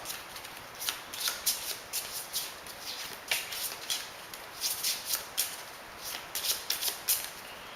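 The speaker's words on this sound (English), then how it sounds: "shuffle them up" A deck of game cards for The Manhattan Project: Chain Reaction being shuffled, quick riffling bursts repeating in an irregular rhythm, close and fairly quiet, with no talking.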